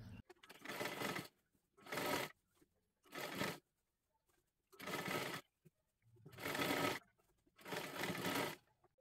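A sewing machine runs a double line of stitching on a girl's one-piece dress in six separate bursts, each about a second long, divided by brief silences and fairly soft overall.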